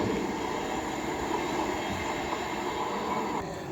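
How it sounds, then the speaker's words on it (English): A Northern Class 323 electric train rumbles steadily past Cheadle Hulme station on the West Coast Main Line, a continuous loud roar with a faint high whine that holds level before easing slightly at the end. "So here comes another Northern 323, 230, sorry, from Stoke-on-Trent to Manchester Piccadilly."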